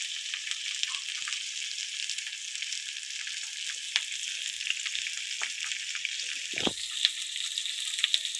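Green and red chillies go into a frying pan with potatoes, and a steady bright sizzle of frying oil runs throughout with a few small pops.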